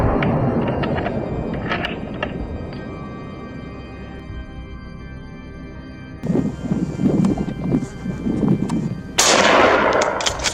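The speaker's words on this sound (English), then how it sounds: "a deafening shot rang out, striking the boar" Loud rifle shots fired at a wild boar on a hillside, heard as sharp, booming cracks with a rolling echo, several reports spread across the clip.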